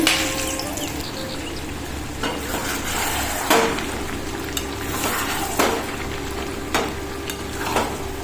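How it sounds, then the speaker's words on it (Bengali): Whole spices and cashews fry in hot oil in a home kitchen pan for lunch fried rice, giving a steady close sizzle broken by several sharp metallic clinks of a utensil against the pan. "তেলের মধ্যে গরম মশলা ফোড়ন দিয়ে দিলাম বোনার সবজি একবারে করে নেব কাজু বাদামটাও দিয়ে দিলাম তেলের মধ্যে"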